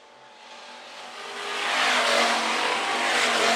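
IMC hobby stock cars race around the dirt oval at Phillips County Raceway, a broad engine roar swelling as the pack approaches and staying loud as it passes.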